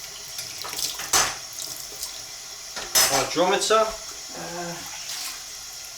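Tap water runs and splashes while homebrew stout equipment is rinsed in a sink, with a louder gush around the middle, as someone talks briefly over the running water.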